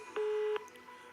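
A single steady dial tone sounds close and clear on a telephone line for about half a second as a call is placed, then gives way to faint line hiss.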